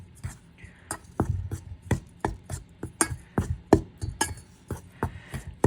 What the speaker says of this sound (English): We are gonna mix this really well.